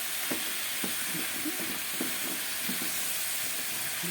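Potatoes stirred in a frying pan with cilantro and spice, a steady hiss of sizzling oil under scattered scraping and clinking strokes of a spoon, close and fairly quiet, no voices.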